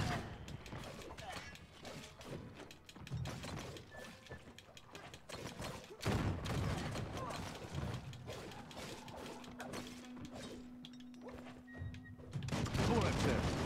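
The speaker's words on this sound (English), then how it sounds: "Bullets everywhere." Rapid bursts of gunfire crackle through a chaotic battle, with bullets flying close by, dense and continuous with a steady hum and scattered voices underneath.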